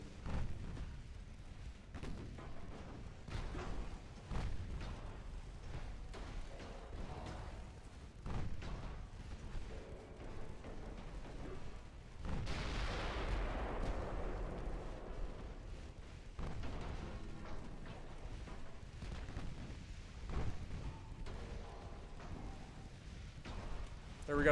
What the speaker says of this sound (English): Got to get our main guns back to firing accurately.